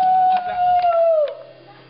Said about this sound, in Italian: A me sembrava un ululato